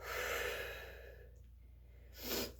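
Slow, soft exhalations drift out during a Pilates exercise, a long airy breath fading away before another short, heavier breath pushes out near the end, close and quiet.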